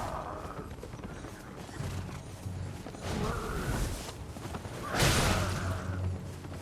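Horse hooves pound in combat in the video game Elden Ring, with rhythmic clip-clop thuds building in bursts alongside sweeping whooshes and impacts, moderately loud and without talk.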